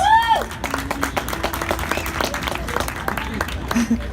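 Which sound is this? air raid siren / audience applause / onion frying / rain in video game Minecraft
audience applause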